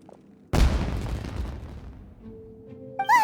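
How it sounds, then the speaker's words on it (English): A sudden fireworks explosion bursts in the video game Genshin Impact, a single loud boom with a crackling tail that slowly fades, followed by faint tonal game sounds. "It sounded like fireworks."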